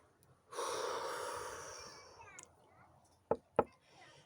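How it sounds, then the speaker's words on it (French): A deep, drawn-out breath through the mouth, a long breathy rush for about a second and a half that fades away, followed by two short sharp taps, close and fairly quiet. "Et on prend une grande inspiration. Et on lâche tout."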